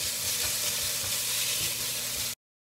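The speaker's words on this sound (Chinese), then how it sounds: "我们把豆干炒一下，然后放一点点的盐" Dried tofu stir-fried with a little salt in a pan, giving a steady, dense sizzle with faint scraping stirs throughout before cutting off abruptly near the end.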